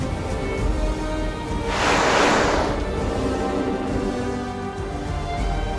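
Pacific Ocean surf as a pod of four killer whales surges through a steel-grey sea, a broad wave wash swelling loud for about a second midway over steady wind and rolling water.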